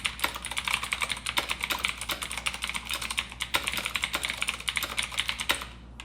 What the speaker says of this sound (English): It has brown switches, which are the really loud, clicky switches.